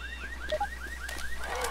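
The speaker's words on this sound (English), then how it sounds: "Don't set off car alarms." Car alarm in the zombie shooter Left 4 Dead 2 blaring loudly: a repeated rising whoop cycling steadily over a constant low hum, with sharp game noises scattered through it and no talking.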